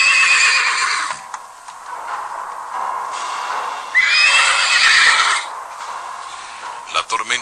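A horse whinnies in a long, loud neigh, then neighs again, with a few faint hoofbeats at the end, under a narrator's voice.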